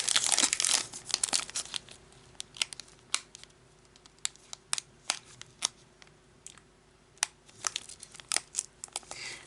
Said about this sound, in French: on va s'ouvrir ces 10 boosters